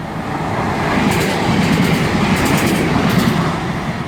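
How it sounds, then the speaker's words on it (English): Passenger train bound for Edinburgh Waverley running through Bowling station, a loud close rumble with rhythmic clickety-clack of wheels over rail joints and bursts of high metallic hiss, sustained throughout, with no voices. "our final train of the day, quite abruptly stopped, is going to be a service to Edinburgh Waverley"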